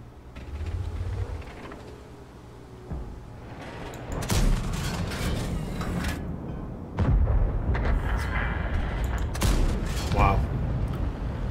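A tank gun blind-firing at a position in a video game, several heavy booming shots spaced seconds apart over engine rumble, with a voice talking throughout.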